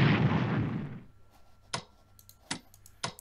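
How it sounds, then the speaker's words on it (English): Battleship artillery fire in the Strategic Command WW2 strategy game: a broad roaring blast fades out over the first second, followed by three sharp, evenly spaced clicks or shots, with no talking. "Let's go ahead and open fire with the battleship."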